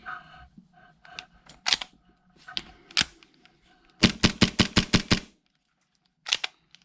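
Tokyo Marui MEU 1911 airsoft pistol firing BBs, its slide locking back each shot: scattered single sharp cracks, then a fast burst of about seven snappy shots in quick rhythm, and a final lone pop, close and clear with no talk.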